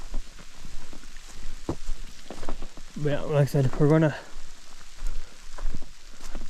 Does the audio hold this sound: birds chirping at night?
no